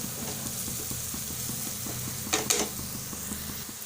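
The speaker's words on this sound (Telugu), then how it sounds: "గరం మసాలా వేసుకొని బాగా కలుపుకోవాలి." Garam masala being stirred into sizzling egg curry gravy in a pan: a steady close sizzle with regular scraping spoon strokes and a couple of sharper metallic clatters near the end, no talking.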